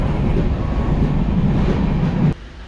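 The Kanchan Kanya Express rolls at Aluabari Road station with a loud, steady low rumble that cuts off abruptly near the end.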